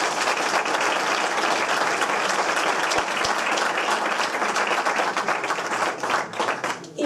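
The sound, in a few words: audience applause at candidacy presentation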